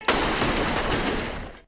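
A gunshot sound effect bursts out loud and near, then rolls on as a sustained rumbling blast before cutting off.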